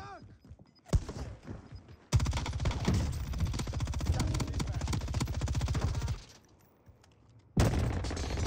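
An automatic gun firing in a video game, a long rapid burst of about four seconds, then a pause and another burst, with a couple of single shots and brief voices before.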